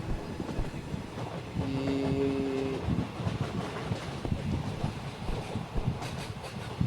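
Inside a moving passenger train coach with few people aboard, a steady rumbling roll of wheels and carriage noise with faint clattering, plus a brief tonal whine partway through.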